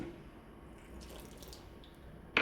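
A faint, steady trickle of water poured into chicken pakoda mix with spices, like a thin stream, with a brief louder splash at the very end.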